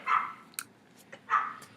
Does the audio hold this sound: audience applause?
no